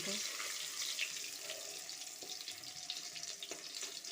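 Cumin seeds crackle and sizzle in hot oil, a steady hissing fry with scattered small pops throughout, close up and fairly quiet, no voices over it.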